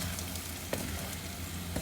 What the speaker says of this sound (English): we're going to give it a good mix. Make sure that everything gets mixed up properly